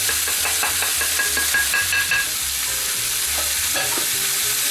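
Lamb, fennel and spices frying in a pot while being stirred, a loud, dense sizzle with scraping strokes and light utensil clinks, steady and close throughout.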